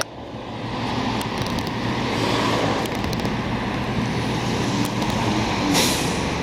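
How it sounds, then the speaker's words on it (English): A tanker truck passes along a city street in Montreal's Cote-des-Neiges borough, a loud broadband engine and road rumble swelling and holding steadily, with no talking. "Ooh, tanker truck"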